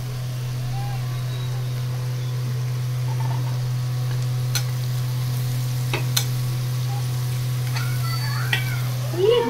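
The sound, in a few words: onion frying in a pan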